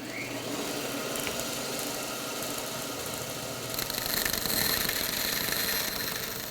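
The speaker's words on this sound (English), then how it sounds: "I can take it over and cut that line with the bandsaw." A bandsaw cuts a thin wooden plank for a dory boat garboard pattern, giving a steady, dense machine hum and rasp that grows slightly louder partway through. No talk is heard.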